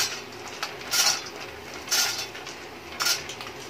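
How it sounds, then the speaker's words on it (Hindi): Almonds being tipped into a pan of roasted edible gum while making besan dry fruit laddoos, heard as three close rattling metallic clatters about a second apart, with no talking. "अब हम डालेंगे इसमें बादाम"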